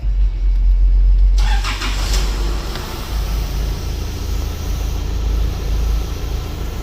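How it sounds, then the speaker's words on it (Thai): A 2010 Nissan Navara 2.5 pickup engine cranks and catches, then settles into a loud, steady running rumble close by. "เดี๋ยวมา สตาร์ทแล้วก็ฟังเสียงเครื่องกันเล็กน้อยเนาะ"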